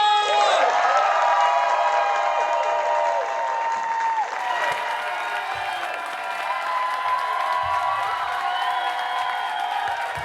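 Audience applause and cheering with whoops as a drag performer is introduced at a live event, loud and sustained, with voices mixed in over the crowd.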